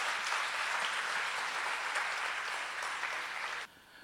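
A crowd claps steadily in a dense, sustained wash of applause that cuts off abruptly near the end.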